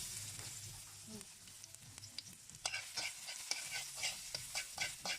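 Garlic frying in a little cooking oil in a pan for lumpia filling, a steady crackling sizzle with scraping stir strokes and clinks, close and moderately loud, no talk.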